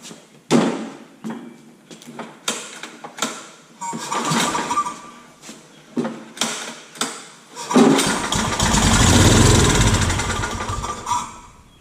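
Scag hydrostatic walk-behind mower engine, a rough basket-case machine, is cranked repeatedly in short loud bursts outdoors, then catches and roars briefly before dying down.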